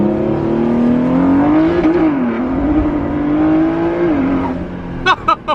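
Ford GT supercar engine revving hard and accelerating, a loud sustained roar with rising and falling pitch close by, followed by a few sharp bursts near the end.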